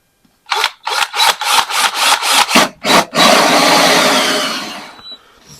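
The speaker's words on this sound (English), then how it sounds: "we're going to drill this one" Close, loud bursts of rough drilling into a wooden door, about nine short pulses in a quick rhythm, then one sustained grinding run that fades out.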